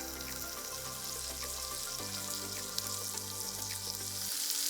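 Paneer fries in a pan with a steady, close hissing sizzle and fine crackling spatters, continuous and fairly loud, over a faint low musical hum, with no voices.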